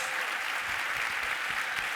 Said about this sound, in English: So now you guys can cheer and applaud them